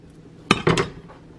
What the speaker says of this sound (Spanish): Vamos a partir bien nuestro aguacatito